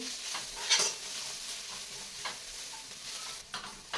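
Garlic, dried red chilli and ginger paste roasting in a hot pan gives a steady, close sizzle, with a few scraping stirs of a spoon cutting through the crackle.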